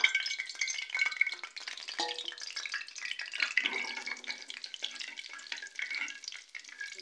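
Whole cumin seeds crackle and sizzle in hot ghee, a busy close spattering with light stirring scrapes throughout and no voices.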